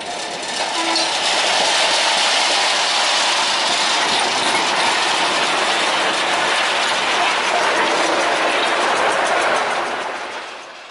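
Hokuriku locomotive number 9 rumbles loudly and continuously over a rail crossing at the PG Semboro sugar mill, rails clattering and wheels screeching close by, fading slightly at the end.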